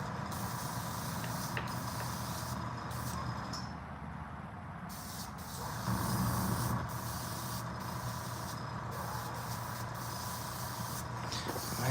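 A spray can hisses out coating onto a fishing lure in a steady, close rush with short breaks and a bump in level midway, over rubbing and handling noise.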